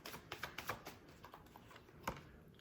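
Tarot cards riffled and shuffled by hand, a run of quick papery flicks and taps at close range with one sharper snap near the end, with no voices.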